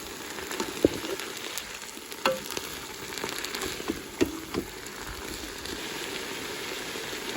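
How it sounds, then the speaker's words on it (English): Peppers and onions sizzling in a hot Ninja Foodi pot at medium-high heat, a steady crackling hiss with a few sharper pops and stirring taps. "now I'm gonna add my peppers and my onions. And we're just gonna saute that a couple minutes."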